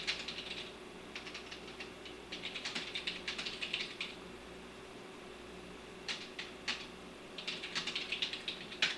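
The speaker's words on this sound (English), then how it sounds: "I guess the typing comes through pretty loud with the mics set the way it was." Keys tapping on a computer keyboard at a home setup, in quick bursts of clicks separated by short pauses, faint and close against a low steady hum.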